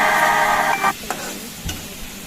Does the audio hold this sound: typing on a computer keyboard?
no